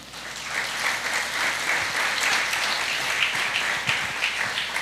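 A church congregation claps, a steady wash of many hands at moderate distance that holds evenly without cheering or voices.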